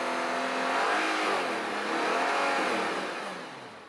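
An Audi R8 engine fitted with a custom-built exhaust revs up and holds at high RPM, a loud close roaring drone that swells twice and then begins to fall away.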